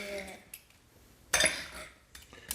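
Cutlery scrapes and clinks against a plate while a crispy homemade waffle is cut, a few short crisp bursts separated by quiet gaps.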